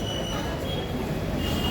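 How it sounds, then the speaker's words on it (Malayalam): A train rumbles and grinds at Kozhikode railway station, a steady close mechanical roar with a faint high squeal of wheels running throughout. "കോഴിക്കോട് റെയിൽവേ സ്റ്റേഷൻ നമ്മൾ എത്തിയിട്ടുണ്ട്"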